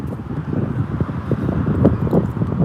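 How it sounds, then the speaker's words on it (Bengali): Steady, low rumbling wind buffets the microphone outdoors in a large park, with gusty swells and faint rustling throughout, no voices. "আজকে বাতাসও খুব সুন্দর একটা বাতাস বইতেছে"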